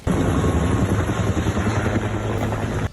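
Helicopters dropping water on a fire at a university campus make a loud, steady rotor roar with heavy low thumping that fills the whole stretch and cuts off abruptly near the end.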